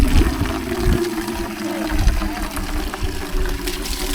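Water pours down from the foot of a cliff inside a cave in Laos, a steady, full rush of flowing and splashing that stays loud and unbroken throughout.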